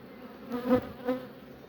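Honeybees buzz around a hive that has lost its queen, a soft steady hum swelling in two brief louder passes as bees fly close, with no talking.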